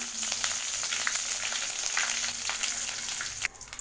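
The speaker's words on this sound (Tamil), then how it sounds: "இதெல்லாம் பொரிஞ்சதுமே ஒரு 4 வரமிளகா, கூடவே கொஞ்சமாக கருவேப்பிலை." Fenugreek, cumin, dried red chillies and curry leaves crackle and sizzle steadily in hot oil for hotel-style sambar, a dense close frying hiss with small pops that drops off abruptly near the end.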